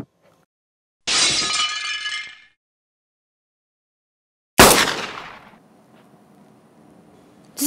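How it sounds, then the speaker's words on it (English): Gunfire from a Joker's gun in a Lego Batman animation: two loud, sharp blasts with shattering, ringing tails, separated by silence, followed by the start of a third. "why don't you shoot me with that gun, Joker?"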